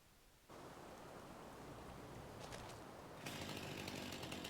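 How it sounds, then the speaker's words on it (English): A chainsaw in the farming video game Farming Simulator 25 starts and runs with a continuous buzzing roar, then steps up louder near the end as it revs, steady and close with no talking. "break out the old chainsaw"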